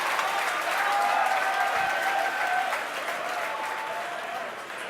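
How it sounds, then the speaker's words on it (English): A crowd cheers and applauds continuously at a Falcon Heavy launch as the side boosters land, a dense wash of clapping and shouting heard from within the crowd. "You can hear our crowd going crazy right now."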